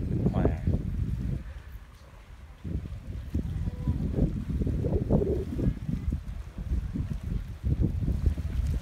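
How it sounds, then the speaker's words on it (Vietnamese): Sea wind blows hard and gustily across the microphone on an island off Nha Trang, a loud, rumbling roar that surges and eases throughout, with boat-like low noise beneath. "Nghe được tiếng gió rít của gió biển."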